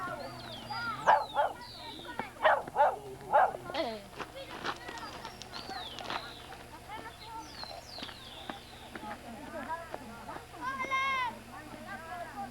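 A fierce dog barks and yips in short bursts, fairly faint and distant, while people talk throughout and birds chirp in the background.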